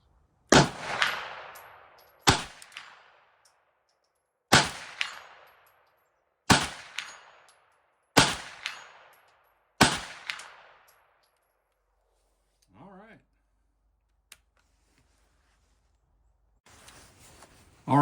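Six loud gunshots from 9mm handloads come at steady intervals of about two seconds, each with a sharp crack and a ringing tail. Quieter handling noises and a brief voice follow.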